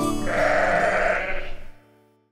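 A single drawn-out animated sheep bleat from a nursery rhyme, close and clear, wavering for about a second before fading out.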